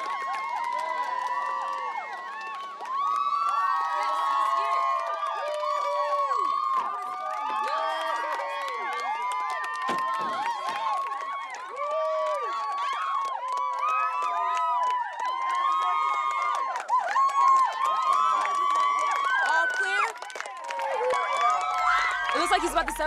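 A big excited crowd cheers and shouts continuously as a Supreme Chancellor arrives by car, a dense wall of whoops and high voices that stays loud throughout, with a surge near the end.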